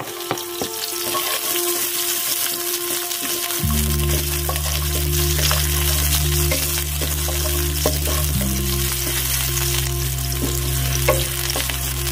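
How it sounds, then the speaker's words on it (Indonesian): Garlic and shallots stir-frying in a pan over a stove, a loud, dense continuous sizzle with a steady hum underneath and occasional scrapes of stirring. "Kita oseng bawang putih"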